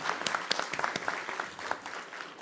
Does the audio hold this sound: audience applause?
yes